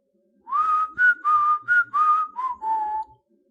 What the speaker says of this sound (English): she whistled the lizard's call